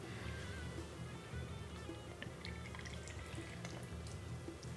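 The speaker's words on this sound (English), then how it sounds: "So now we're going to add in the wet ingredients into the dry ingredients." Wet ingredients for matcha mochi brownies being poured into a bowl of dry ingredients, a continuous soft liquid pouring and dripping sound close to the microphone, with no talking.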